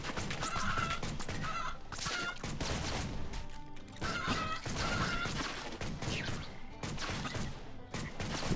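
Chickens squawk and honk in the Swamp Attack 2 video game amid loud, busy smashes, shots and crashes that run almost without pause.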